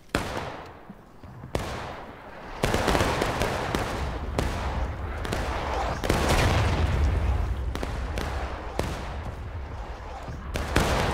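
Musket volleys ring out in the War of Rights game near a river pontoon and rail bridge, with several sharp close shots followed by a sustained rumbling stretch of continuous distant fire.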